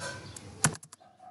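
Short burst of typing on a computer keyboard, a few quick soft clicks with one sharper keystroke, close and quiet, no voices.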